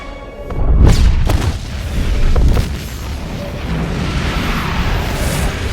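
A missile explodes in the film Superman II, freeing the Phantom Zone villains: two heavy booms roll out about a second apart, followed by a long rumbling, roaring wash of noise that lingers.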